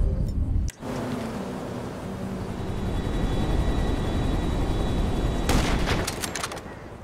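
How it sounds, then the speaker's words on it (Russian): Helicopter flying overhead in Grand Theft Auto 5, a loud, steady rotor roar filling the whole stretch, with a sharp crack near the start and a burst of clattering hits toward the end. "Ну какой вертолетик у нас там летает"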